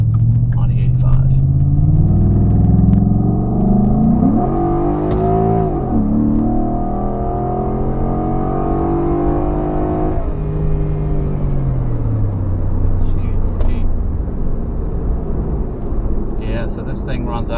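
A naturally aspirated Ford F-150 truck engine on an E85 tune with a cold air intake revs hard at wide open throttle, rising and falling in a loud, throaty roar. Its pitch sweeps up and back down before settling into a lower rumble.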